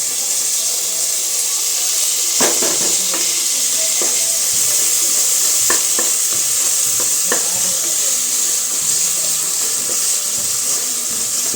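Tomatoes sautéing in a pan with ginger-garlic paste for a green peas kurma, giving a steady close sizzle with occasional stirring scrapes and clinks throughout, no talking.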